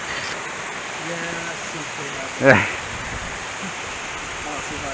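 A small cascading mountain stream in Pisgah National Forest rushes as a steady, soft broadband wash throughout, with a person speaking briefly over it near the middle.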